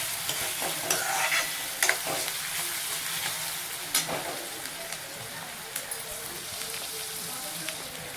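Onions frying in a pan, browning for a palak and chickpea dish, with a steady close sizzle and soft scrapes and clicks of a spoon stirring throughout.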